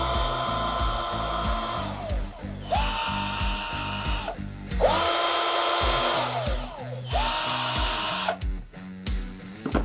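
Xenon CDID1845 18V cordless impact drill run at speed 1, whirring in close, loud bursts that spin up and wind down about four times, with brief gaps between runs.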